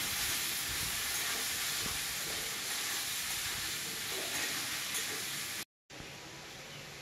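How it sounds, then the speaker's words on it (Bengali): Eggplant is frying in hot oil left from frying fish, giving a steady, close sizzling hiss throughout. The sound cuts out briefly near the end. "এবার আমি বেগুনটা দিব। বেগুনটা দিয়ে কিছুক্ষণ ভাজবো।"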